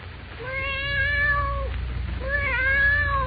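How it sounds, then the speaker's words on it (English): A black cat mews plaintively, two drawn-out, wavering meows with a short pause between, close and clear over a low steady hum. "A cold black cat that, awakened by the opening of the door, rises and stretches, mewing plaintively"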